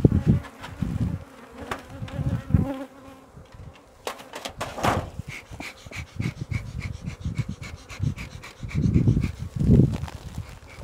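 Honeybees buzz steadily around an opened hive as the keeper smokes it, a dense insect hum with louder swells close by, joined by rustling and breathy puffs of the smoker.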